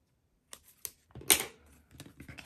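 A sharp blade cuts the edges of paper in a few soft clicks, then one crisp slicing rasp and some lighter taps, all close and quiet in a hushed room.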